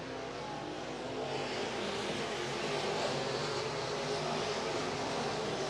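Modified race cars roar steadily around a dirt oval at Eagle Raceway, a dense continuous engine drone heard from a distance with no clear pass-by peaks.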